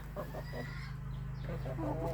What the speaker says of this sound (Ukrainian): Тут у мене ось кури, дивіться, що роблять.